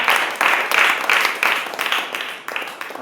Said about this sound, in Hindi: आप ताली दे सकते हैं